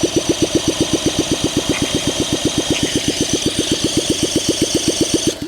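A Honda SL125 motorcycle engine is cranked on batteries, a fast, even train of loud, close chuffing compression beats that carries on for several seconds without catching, then trails off.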